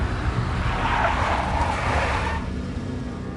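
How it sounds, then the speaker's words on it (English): Tires squeal as a big black Mercedes skids in the Max Payne video game, a loud screech over engine noise lasting about two seconds, then fading into a rumbling idle. "A big black Mercedes."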